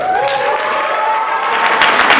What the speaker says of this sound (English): please fill the room with applause fit for a queen, Victoria